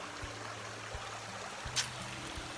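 A full-running stream along the Appalachian Trail, a steady, soft broadband rush of water that stays even throughout, with low hum-like tones underneath.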